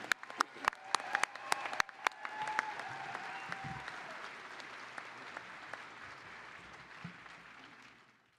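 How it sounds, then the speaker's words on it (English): A few sharp claps grow into broad applause from a commencement crowd for a university's graduating class, steady and fairly distant before fading out, with brief murmurs underneath. "Another round of applause for the class of 22."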